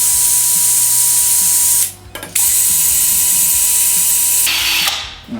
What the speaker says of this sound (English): we'll run the hone through the hole just to widen